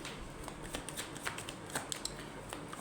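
Tarot cards being shuffled by hand, a dense run of crisp riffling and flicking snaps lasting a few seconds, close and fairly quiet, with no talking over it.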